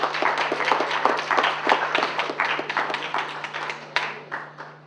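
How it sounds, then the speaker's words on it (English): A small audience at a peace event gives a round of applause, a burst of close, loud hand claps that thins out and fades over a few seconds, with a low steady hum underneath. "Why don't you give yourselves all a round of applause, please."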